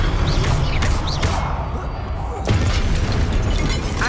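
Fire spell blasts from Hogwarts Legacy cast in quick succession, dense crackling bursts and booming impacts over continuous game noise, with a sharp whoosh surge midway; a voice calls out spell names between them.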